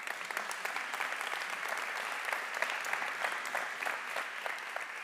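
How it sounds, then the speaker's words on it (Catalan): An audience at a talk on artists' rights applauds the speakers, with many hands clapping in a bright, crackling, steady burst that carries evenly through about five seconds. "Un aplaudiment per ells."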